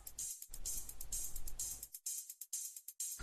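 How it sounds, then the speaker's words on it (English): An open and closed hi-hat pattern from an 808-to-909 drum kit, the basic dance-music groove, ticking and hissing in a steady rhythm over a brief low thump at the start. "Very basic open and closed hi-hat rhythm that you hear in a lot of dance music."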